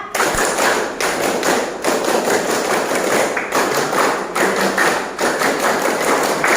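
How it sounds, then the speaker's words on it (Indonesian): A group of children in a classroom perform a rhythmic spirit clap, tepuk semangat: loud, close bursts of clapping in a patterned rhythm, broken by short regular pauses between phrases. "kalau paham, kita tepuk semangat dulu"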